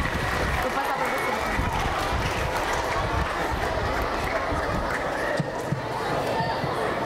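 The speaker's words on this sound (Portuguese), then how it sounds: "Aê, palmas pra ela!" Audience applause for a young violin student at a Suzano audience-building concert, a dense, steady wash of clapping that holds for the whole stretch with crowd voices mixed underneath.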